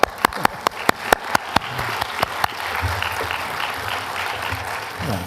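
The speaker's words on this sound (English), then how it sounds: "I, for one, think that video deserves a round of applause." Applause from an audience at a book launch, starting with a run of sharp, distinct claps from one person nearby, then thickening into a steady wash of clapping from the room.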